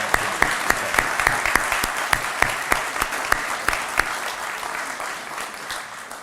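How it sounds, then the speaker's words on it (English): An alumni convocation audience applauds in a steady, dense wash of clapping, with a few sharp, louder claps standing out near the microphone. "I hope everyone will join me in another round of applause"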